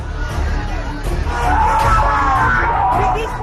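A crowd of protesting workers shouts slogans in the street, a loud, packed mass of yelling voices that swells toward the middle and holds.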